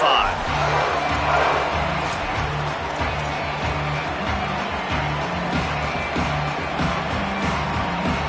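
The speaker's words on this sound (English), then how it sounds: "This crowd ready to make its presence known." Stadium crowd noise from a college football video game, a broad, steady roar with swelling cheers and a voice talking over it throughout.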